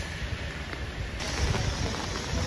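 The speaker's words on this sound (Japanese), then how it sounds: "あいにくの雨なんですが、" Steady rain pours down at JR Minami-Kusatsu Station early on a wet morning, a dense even hiss of drops on surfaces with a low rumble of traffic underneath, swelling slightly in the second half.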